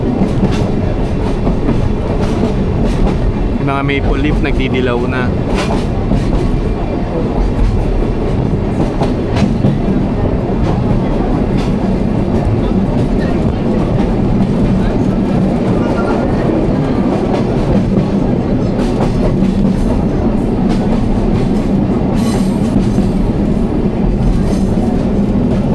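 A train rumbles past beside a river in Kyoto, Japan, with a low roar and rattling wheels throughout, while a person briefly speaks over it.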